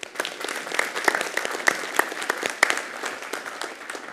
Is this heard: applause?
yes